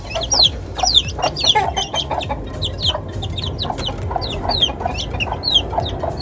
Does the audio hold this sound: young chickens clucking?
yes